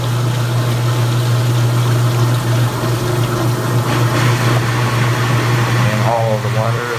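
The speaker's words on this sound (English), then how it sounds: "And all of the water is pumped out." A 1980s Kenmore laundry center washer pumps out its water, a steady loud mechanical hum with a strong low drone and a rushing, gurgling wash throughout, continuous and close.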